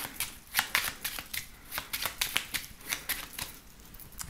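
A 32-card deck being shuffled for a card reading, a quick run of close, crisp riffling bursts and flutters, with no talking.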